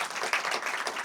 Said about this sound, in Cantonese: 不如先請大家俾掌聲佢哋好嗎？